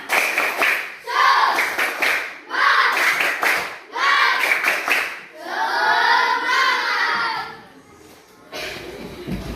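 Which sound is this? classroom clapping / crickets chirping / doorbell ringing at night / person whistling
classroom clapping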